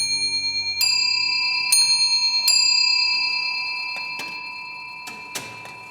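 Louis XIV's automaton clock from 1706 chimes a tune on its 18 bells, sounding a series of clear, ringing metallic strikes that each sustain and decay, spaced a second or so apart, alone and fairly close.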